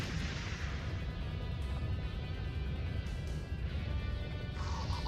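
The Hi-Mega Cannon in Super Robot Wars, fired from a Gundam's forehead, lets out a continuous roaring beam blast, dense and loud, that rumbles steadily for several seconds with crackling bursts layered in.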